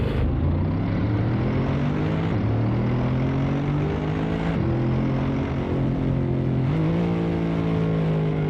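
A racing car in the Assetto Corsa game drones loudly and continuously, its engine pitch rising and resetting through gear changes as it slides around a corner, with a rough tire-scrub texture underneath.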